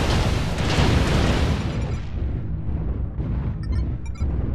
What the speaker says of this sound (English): Where are the missiles coming from?